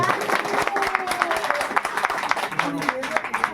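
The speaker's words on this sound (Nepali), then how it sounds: "ल ताली बजाउनुहोस्।" Scattered clapping from a small group at a wedding ring ceremony, voices mixing in beneath the applause.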